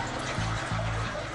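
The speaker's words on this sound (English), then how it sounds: "Go ahead and flush that commode." Water rushes steadily from a flushing toilet in an old house, a continuous close hiss with a low pulsing gurgle underneath, and no voices.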